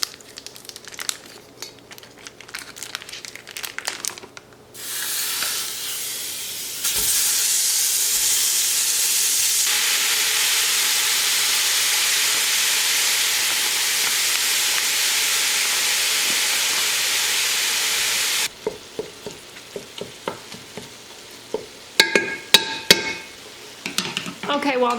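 Grass-fed beef for one-pot chili cooks in a pot with a loud, steady sizzle and hiss that holds for most of the stretch, bracketed by stirring, scraping and clattering of pot and utensil.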